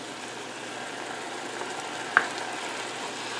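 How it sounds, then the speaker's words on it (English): Fat and oil bubbling in a pan of spaghetti sauce, a steady close sizzle and fizz throughout with one small pop partway through. "some fat and oil that's bubbling"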